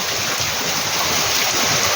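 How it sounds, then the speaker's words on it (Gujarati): Heavy rain keeps pouring in a dense, loud, continuous hiss close by, with no voices over it. "હજી વરસાદ ચાલુ છે એવો ને એવો"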